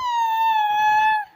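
A voice gives one sustained, high wailing cry imitating a crying baby, close and steady before cutting off.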